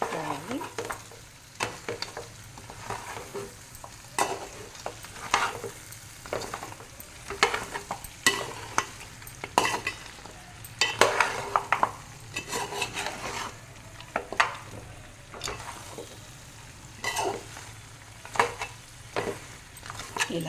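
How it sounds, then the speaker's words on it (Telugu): Mutton paya frying in oil in a pan while being stirred, with a steady sizzle under repeated scraping and clattering strokes at an irregular rhythm, close up and with no talking. "ఇలాగే కలుపుకుంటూ ఆయిల్ పైకి వచ్చే వరకు ఉంచుకోవాలి"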